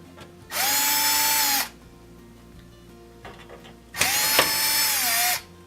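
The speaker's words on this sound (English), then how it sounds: "We're just going to spin off these 3 Phillips head." A power drill backs out three Phillips head screws from trim on a Thermador oven. Two close, loud bursts of high whirring are separated by quiet handling noises, with no talk.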